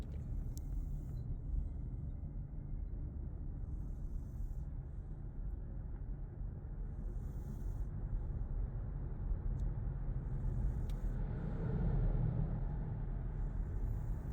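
Kia EV6 Wind AWD electric car accelerating up to highway speed, a steady low road rumble and tire noise inside the cabin that swells slightly toward the end, with no talking.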